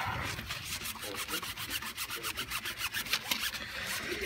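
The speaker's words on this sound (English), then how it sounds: "I brought some grease remover to clean the handlebar" Rapid rhythmic rubbing scrubs grease remover along a Suzuki GSXR 1000 K1 motorcycle handlebar, a close, steady series of brisk back-and-forth strokes with no talking.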